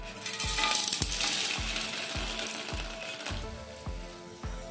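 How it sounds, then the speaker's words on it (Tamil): Dried chillies, chana dal, cumin, rice and urad dal fry in a pan for curry leaf kuzhambu, a soft dry sizzle broken by a spoon scraping and tapping the pan in a steady stirring rhythm. "இதை நல்லா நம்ம ஃப்ரை பண்ணிக்கலாம்."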